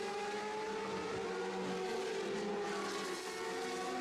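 Race cars in the BOSS GP series accelerate away on the opening lap at Monza, a steady, sustained high engine whine with rising revs, heard from a distance and fairly faint.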